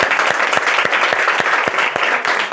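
A crowd at a church prayer meeting claps loudly and continuously, a dense wash of applause with sharp individual claps standing out throughout, no voices above it.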